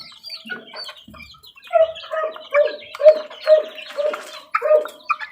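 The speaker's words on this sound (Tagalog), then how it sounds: "pasensya na mga idol at maingay yung aso namin." A household dog barking about seven times in a steady series, fairly close, with young chicks chirping and peeping throughout.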